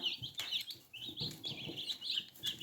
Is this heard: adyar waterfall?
no